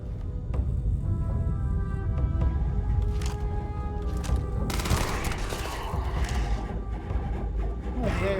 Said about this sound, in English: Try the new SMG.